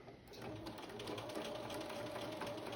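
A sewing machine back stitching at the start of a dart in fabric, running steadily and close with a rapid, even mechanical whir for nearly the whole stretch after a brief pause.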